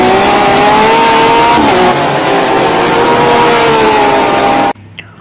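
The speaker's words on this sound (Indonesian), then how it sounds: "Di sini ada mobil balap Lamborghini warna hijau" A loud, steady revving engine effect from a green Lamborghini toy race car, its pitch holding high and even for several seconds before cutting off abruptly into near silence.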